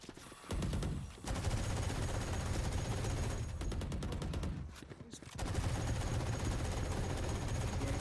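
Sustained automatic fire from the Odin machine gun in the shooter game Valorant, long rattling bursts that stop briefly twice and then resume, with faint voices underneath.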